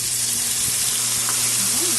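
Paste of six or seven green chillies fries in hot oil with fried potatoes for potol posto, giving a loud, steady sizzle that continues without a break, with faint stirring and no talk.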